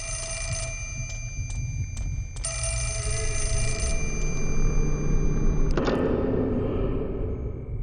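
A telephone rings in the horror video game Fatal Frame: Mask of the Lunar Eclipse, with repeated shrill bell bursts over a low droning ambient background, ending with a sharp click and shift in tone, no talking.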